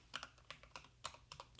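Rapid typing on a computer keyboard during a coding session, with irregular bursts of sharp key clicks, fairly close and moderately quiet with no talking.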